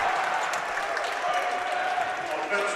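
A basketball crowd in a men's college game, Kalamazoo vs. Adrian, roars steadily after an offensive foul call goes the Hornets' way, a dense, loud wash of cheering and clapping throughout.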